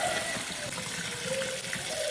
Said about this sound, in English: These noodles, you have to rinse it thoroughly for like 5 minutes under cold water